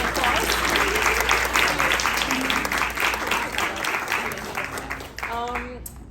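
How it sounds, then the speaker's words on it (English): Applause from an audience at a Palm Bay Chamber of Commerce event for a featured guest: steady, dense clapping that fills the room and carries on for several seconds, with voices and a few whoops mixed in. "Let's give a round of applause."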